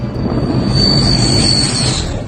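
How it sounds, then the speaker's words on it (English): Airplane passing close overhead, a loud, broad roar that swells to a peak near the middle and eases off slightly toward the end, with a thin whine riding on top. "Plane close pass."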